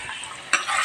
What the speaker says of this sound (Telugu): కుక్కర్లో వేసేసాను, తాలింపు పడ్డది.